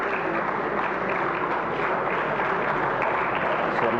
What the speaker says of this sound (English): A big applause for them.